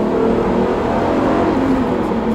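Seat Leon Cupra 4 V6 engine holding a steady, loud rev with a constant low growl and no pauses, heard up close.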